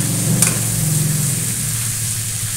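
Litson paksiw being stirred in a pan, a steady loud sizzle and bubbling wash with a faint scrape of the utensil early on.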